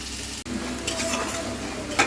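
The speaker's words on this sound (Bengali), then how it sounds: "আর এগুলো একটু ভেজে নিচ্ছি ভাজা ভাজা হলে তারপর আরও বাকি যে মশলা সেগুলো অ্যাড করব" Ginger, garlic and onion paste fries in a pan with ground coriander, cumin, salt and turmeric for an egg tarka. A dense, continuous close sizzle is broken by a brief dropout and a few soft stirring scrapes.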